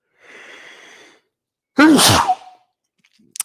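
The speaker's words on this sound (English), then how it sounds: "I might have to sneeze. Hold on 1 second." A quick breath in, then a single loud, close sneeze that bursts out sharply and trails off into quiet.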